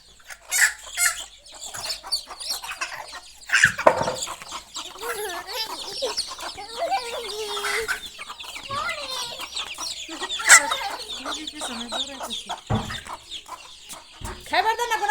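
Hens in a village yard on a foggy winter morning cluck in repeated bursts, close by, with other farmyard bird calls and occasional background noises mixed in.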